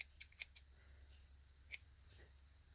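Small scissors snip loose yarn hairs from a handmade boho bead, giving a few quiet, crisp clicks spaced irregularly over a faint background hum.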